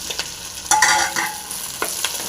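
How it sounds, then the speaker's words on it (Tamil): Green chilies and tomatoes frying in a pan, a close, continuous hiss of sizzling oil with a few scraping stirs of a spatula. "கூடவே பச்சை மிளகாயும் போட்டுடலாம் நல்லா ஃப்ரை ஆகட்டும் தக்காளியும் போட்டுடலாம்"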